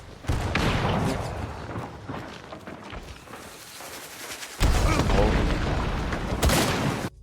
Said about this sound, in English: Shot there with the shotgun at the head range